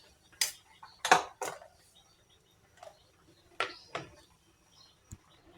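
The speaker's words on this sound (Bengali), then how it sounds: "এভাবে সুন্দর করে নাইফ দিয়ে পেঁয়াজটা কেটে নিচ্ছি।" Knife chopping onions and green chillies for taki fish bharta, a handful of sharp irregular chops on a board, some close together and others spaced apart, fairly near with quiet gaps between.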